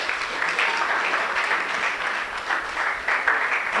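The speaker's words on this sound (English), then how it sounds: "Let's welcome her with a round of applause." An audience at a leadership speech event applauds steadily, a dense wash of many hands clapping in a hall, sustained at moderate volume for a few seconds.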